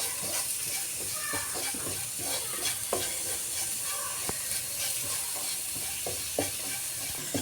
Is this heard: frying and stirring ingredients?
yes